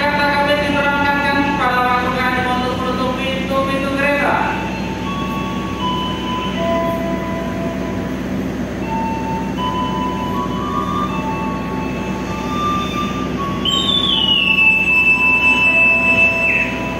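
Executive-class Manahan passenger train pulling out of a station bound from Jogja, with stepped chime tones at the start and a steady rumble of rail noise beneath, then a bright high whistle-like tone near the end.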